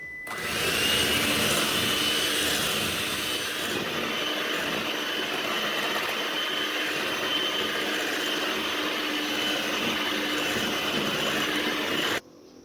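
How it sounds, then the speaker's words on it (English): An egg being beaten into creamy cookie batter: a loud, steady whirring drone held evenly for about twelve seconds before it cuts off abruptly, with no talking. "Add it in the mixture, then beat it."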